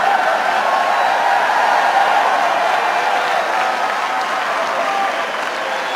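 A large political rally crowd applauds in a dense, sustained roar of clapping with cheering mixed in, loud and unbroken throughout.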